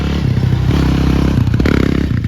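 Yamaha Banshee ATV engine, freshly rebuilt, running loud and close with a rapid rattling two-stroke putter and brief rev surges.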